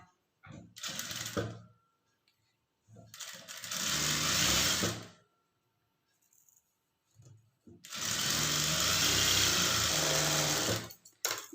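A sewing machine stitches a blouse band in three separate bursts, each a close whirring run of a second or a few seconds, separated by quiet pauses.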